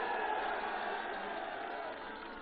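An election rally crowd in Ghazipur claps and cheers in a dense, steady wash of applause heard from a distance, slowly fading toward the end.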